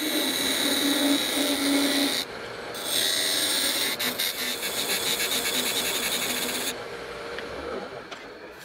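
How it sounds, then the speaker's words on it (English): A lathe hums steadily while a tool parts off a wooden burl lid, a harsh scraping rasp that drops out briefly and resumes before easing off near the end. "the next thing I need to do is part my lid off"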